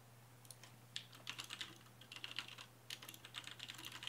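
Computer keyboard typing in short quick bursts with brief pauses, soft and close against a low steady hum, no voices.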